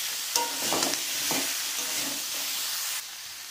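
Tomato and cauliflower sauté in a hot pan for a cauliflower roast, a steady close sizzle broken by a few scraping stirs of a spatula, with the frying dropping slightly quieter near the end.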